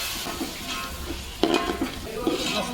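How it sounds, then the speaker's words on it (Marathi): Washed raw moong dal is stirred into hot spiced oil in a pan, a soft sizzle under scraping spoon strokes with a sharper clink near the middle, close up. "आता आपण जे मसाले तेलामध्ये परतले त्याच्यामध्ये ती चांगली परतून घ्यायची"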